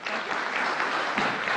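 Brief burst of audience applause for a sixteen-member stage team at a Diwali night at IIT, steady clapping from a crowd throughout the short moment, moderately loud and without voices on top.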